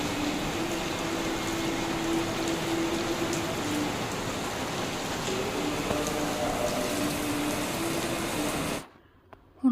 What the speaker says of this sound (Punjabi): ਪੂਰੀ ਤੇਜ਼ ਬਾਰਿਸ਼ ਹੈ